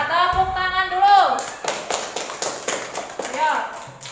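A classroom of students claps hands during a lesson, a burst of scattered taps and claps mixed with a teacher's speech, close and moderately loud.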